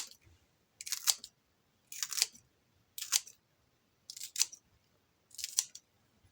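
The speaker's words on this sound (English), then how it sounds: "I'm just going to cut them up. I think I'll use the scissors." Five crisp scissor snips cutting through sweet peppers, evenly spaced about a second apart, close and clear with quiet between them.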